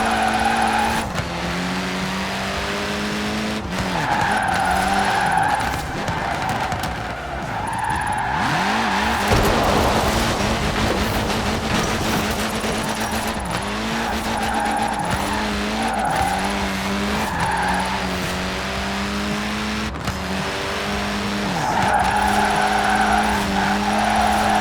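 A car drifts across mixed road surfaces in Forza Horizon 4. Its engine revs loudly and its tires squeal and skid in long sweeps, with a rougher gravelly stretch midway, all close and without talk.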